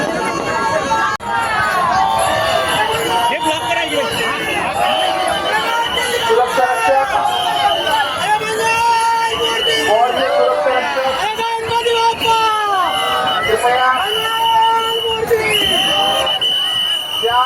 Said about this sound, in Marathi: बाजूला जास्त गर्दी झालेली आहे